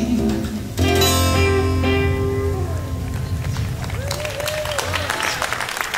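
An audience applauds a singer-songwriter after a song, a sudden burst of clapping that fills the room under fading music and scattered voices.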